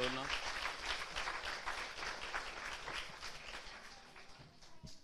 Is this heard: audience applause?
yes